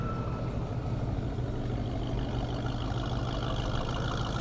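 An Audi R8 sports car driving down the airstrip at a speed event, a loud, continuous engine roar with a deep rumbling undertone, steady throughout and heard without voices.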